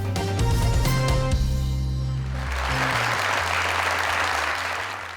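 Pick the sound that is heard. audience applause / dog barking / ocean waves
audience applause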